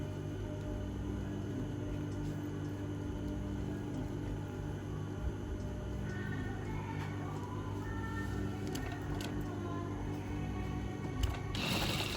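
A sewing machine runs a steady, continuous stitch around the edge of a square pillow, a close and even mechanical hum with a few brief clicks near the end.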